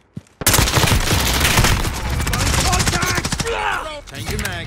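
Loud, rapid bursts of automatic gunfire crackle through a video game firefight, dense overlapping shots at first, then looser volleys with sharper scattered cracks and clatter toward the end.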